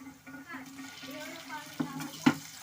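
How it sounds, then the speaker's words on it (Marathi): Four large onions stir and fry in a pan, a soft sizzle under light scraping, with a couple of sharper clinks of utensil against the pan and a voice talking faintly. "घालते चार मोठे कांदे चांगले हलवून घ्या त्यांना परतवून घ्या"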